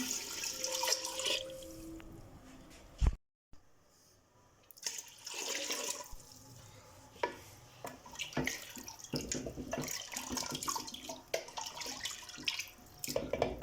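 About 1.5 litres of water poured into a cooking pot for Lahori murgh chane: an irregular splashing pour that stops briefly, then resumes with gurgling and clinks, moderately close, no talking.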